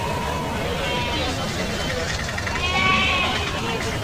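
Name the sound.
lamb bleating at sheep market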